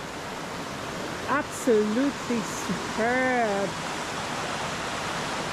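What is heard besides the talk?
creek flowing next to campsite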